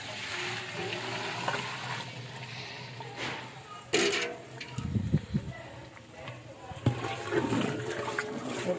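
Water is poured into a pot of browned keema for keema matar pulao, making a steady rushing, splashing wash with bursts of sizzle and bubbling as it hits the hot pan.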